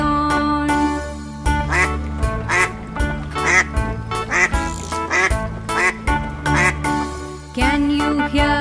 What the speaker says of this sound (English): Quack quack says the duck in the pond.